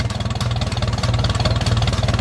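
An old Ferguson tractor engine idles close by with a steady, even, low chugging pulse and a slight clatter. No one talks over it.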